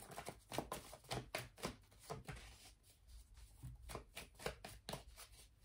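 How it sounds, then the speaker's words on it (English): Soft, rapid riffling and tapping of tarot cards being shuffled, repeated in quick bursts, quiet and close. "That was the shuffle."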